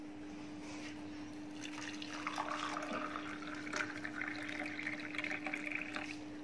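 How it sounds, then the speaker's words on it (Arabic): Boiling water poured steadily into a cup holding four or five whole cloves, a continuous splashing fill that swells in the middle and stays close, alone without talk, over a faint constant hum. "هننزل عليه بالميه المغليه كده"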